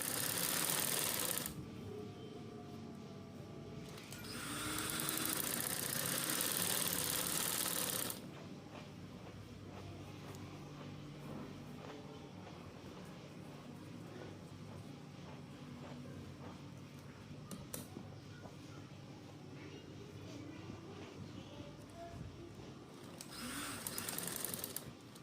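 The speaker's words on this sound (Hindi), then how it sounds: "इसके साथ साथ सीधे सिलाई लगाते जाएं।" A sewing machine runs a straight seam along a shalwar, with a quiet, steady mechanical whir through most of the stretch, briefly broken by louder handling noise near the start and the end.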